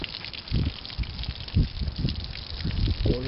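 Water gushing and splashing in uneven surges as it runs to a 1982 Mercury 40 hp outboard, a close, steady liquid rush with irregular louder spurts and no talking.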